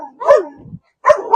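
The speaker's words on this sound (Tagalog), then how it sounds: "May aso dyan. May aso." Dogs bark sharply at a house during a Christmas visit in the Philippines, two loud close barks separated by a short pause, with a faint whimper between them.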